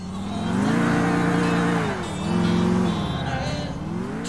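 A car engine in GTA IV revs and drones loudly, rising and falling in pitch as it accelerates while drifting, with a faint tire squeal.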